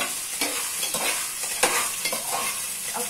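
Green chillies frying in a pan for okra fried rice, stirred with several quick scraping strokes over a close, bright sizzle.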